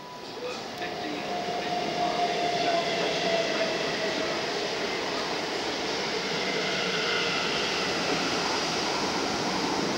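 A train runs through New Malden station on the South Western Main Line without stopping, a loud, steady roar and rumble of wheels on rails lasting throughout, with faint clickety-clack.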